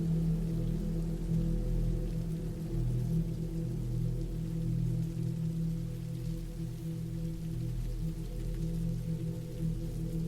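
Steady rain falls on a remote woodland cabin, heavy downpour hiss with soft patter of drops throughout, continuous and even in level with no voices.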